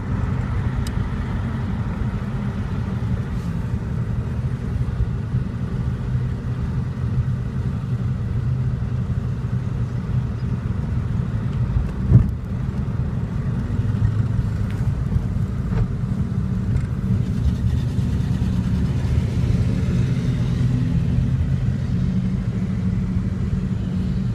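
A steady low engine rumble and road noise from inside a moving old car, constant throughout with a brief thump midway.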